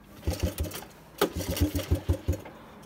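A 1983 Suzuki LT125 ATV engine, run without choke, catches and sputters in quick rhythmic put-put bursts, briefly pausing before chugging again unevenly, close by and moderately quiet.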